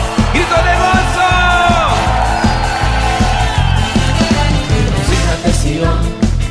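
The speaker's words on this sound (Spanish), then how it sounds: "Grito de gozo." A crowd at a worship concert yells and whoops over loud, driving music with pounding bass, the shouts rising in long sweeping cries throughout.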